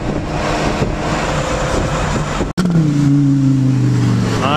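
A Lamborghini Gallardo with a V10 engine accelerates hard nearby. A loud, rising engine note swells after a brief break, over wind buffeting.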